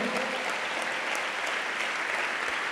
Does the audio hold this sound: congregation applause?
yes